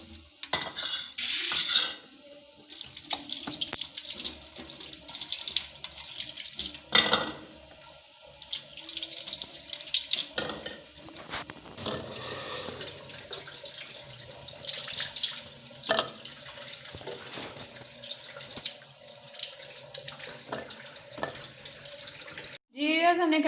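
Half a kilo of amla (Indian gooseberries) rinsed one by one under a running kitchen tap for murabba, with steady water splashing into a sink and occasional clinks of fruit and utensils throughout.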